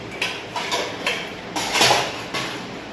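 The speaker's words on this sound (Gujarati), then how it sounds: "મમ્મી અત્યારે વાસણ મૂકવા, જે વાસણ મૂકવાનો અવાજ બહુ થાય." Steel utensils are set down and stacked in a home kitchen, a string of about six metallic clatters and knocks in an uneven rhythm, fairly close and loud, with no talking.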